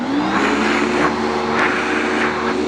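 Panasonic Jet-Flo vacuum cleaner with a 6.7 amp clean air motor running steadily nearby, a loud, even whirring roar with a faint high whine and slight pulsing.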